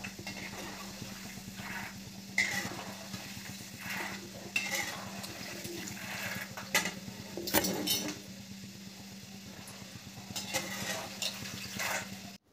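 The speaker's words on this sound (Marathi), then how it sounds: "शेंगदाणे पण छान खरपूस तळून घ्यायचे." Peanuts frying in a pan until crisp for puffed-rice chivda, a steady low sizzle with repeated scraping stirs and light clinks of a utensil against the pan throughout.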